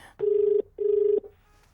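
A telephone rings in two long steady bursts separated by a short pause, loud and close, with no talk over it.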